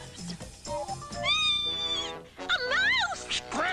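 Cartoon cat meowing loudly in long, rising and falling wails, several drawn-out cries in a row with a brief pause between, over a busy animated soundtrack.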